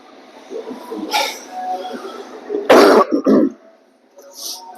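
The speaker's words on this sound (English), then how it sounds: "sorry for that cough" A person coughs and clears their throat at close range in a couple of rough bursts, the second louder and longer, with quieter breathing around them.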